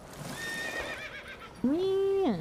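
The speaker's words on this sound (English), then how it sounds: "Oh, there's horse." A horse in a video game whinnies loudly and clearly up close, its high wavering call rising then falling, after a softer whinny and faint game sounds.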